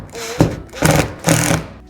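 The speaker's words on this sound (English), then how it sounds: "So I'm just screwing into that ready." A drill driving a screw into a piece of filler wood behind plasterboard during downlight installation, heard as three short, close, buzzing bursts separated by brief pauses, with no talk.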